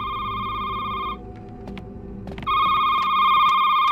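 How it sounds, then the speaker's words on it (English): Telephone ringing in the horror game Shift at Midnight: loud electronic bell trills for about a second, a short pause, then the ringing resumes and continues, with no talking. "Just opens it up and now the phone's ringing."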